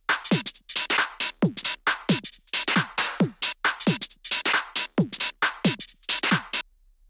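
Original drum loop loaded into Slice X in FL Studio for a UK garage track, a busy, shuffling pattern of kicks, snappy snares and bright hats playing continuously, loud and unaccompanied.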